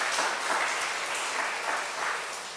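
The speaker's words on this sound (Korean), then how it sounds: "박수 한번 쳐줘" Loud, continuous clapping from a church congregation at a prayer retreat, a thick wash of many hands applauding close by, fading a little toward the end.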